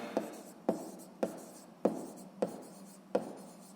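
Pen writing an answer in a notebook, a soft run of scratchy strokes with six sharper taps spaced roughly half a second apart, close and quiet with no talking.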